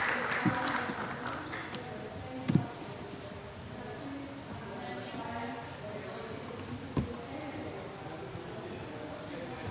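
Steady audience applause fills a hall at a renewable energy technologies conference, a dense even patter of many hands with a few sharper claps standing out and some voices mixed in beneath.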